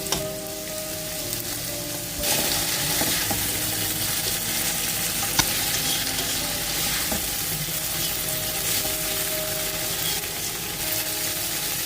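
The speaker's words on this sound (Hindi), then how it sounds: "हल्का सा सब्जियों को फ्राई करके" Onion, capsicum, tomato and green chilli frying together in a pan for a spicy spaghetti dish, a dense moderate sizzle that swells as the vegetables go in, with occasional light clinks, no speech.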